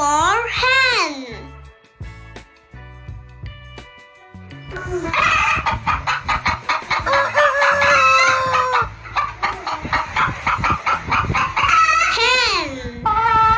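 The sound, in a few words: hen clucking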